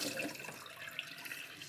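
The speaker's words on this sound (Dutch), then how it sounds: "ik ga gewoon met water even schoonmaken" Cold tap water pours over red currants held in a sieve, a steady close splashing and trickling with no talk.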